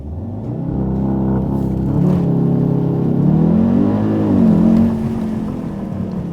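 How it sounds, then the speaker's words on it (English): Audi TTS MK3 all-wheel drive car launching from a standstill with traction control off: a loud engine held at high revs, then a surging roar as it pulls away and climbs through the revs. "hold the brake, floor it, wait for it to be stable,"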